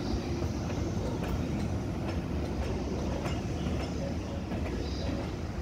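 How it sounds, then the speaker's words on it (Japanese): An EH200 electric locomotive hauls a freight train into Soga station, giving a steady rolling rumble with faint wheel clicks and occasional squeals, close and continuous. "それと入れ替えに EH200 がやってきました。"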